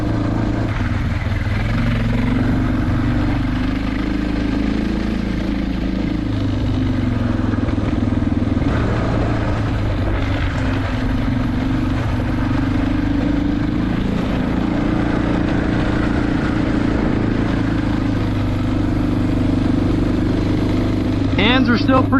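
A Suzuki DR650 motorcycle rides a snowy, icy backroad, its engine droning steadily and loudly throughout with wind rush, while a rider talks over the noise.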